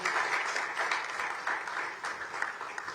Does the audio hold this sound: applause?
yes